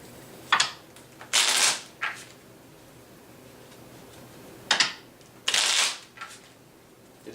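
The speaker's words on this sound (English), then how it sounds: "My wife is much better at shuffling." A deck of cards is shuffled in two bouts, each a quick riffle burst followed by a louder sustained flutter and a short tap, close and crisp against a quiet room.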